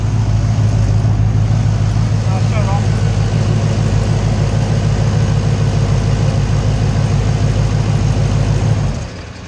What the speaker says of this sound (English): that exhaust system sounds crazy in real life